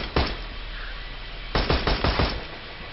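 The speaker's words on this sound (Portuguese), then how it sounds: "Oi, para de me atirar." Rapid automatic gunfire from the video game Borderlands 2, with one short burst near the start and a longer rattling volley later, loud and close, with no talking.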